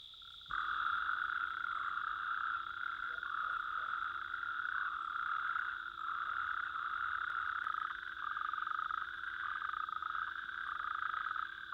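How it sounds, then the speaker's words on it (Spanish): Common toads gather at night in ponds and small pools in the Picos de Europa to mate. Their steady, continuous trilling chorus carries on without pause, faint and even, with no voices. "los sapos comunes se reúnen en las charcas y lagunillas para aparearse"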